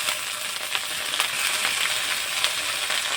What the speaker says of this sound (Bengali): তেল ভালো করে গরম হবে। তো এবার শাকগুলো দিয়ে দিচ্ছি।